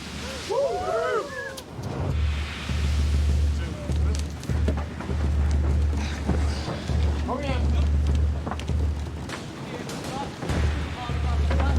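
Viking longship sailing close-hauled on the open sea toward the Shetland Islands, with steady low rumble of hull, wind and water rushing past throughout, gusty buffeting, and a few birdlike calls or creaks early on.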